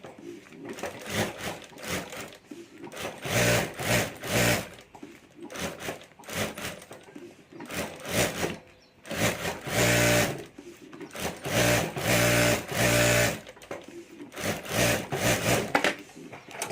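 A sewing machine stitches the lining of a handbag in repeated bursts of rapid, even whirring, stopping and starting with short pauses, close and fairly loud.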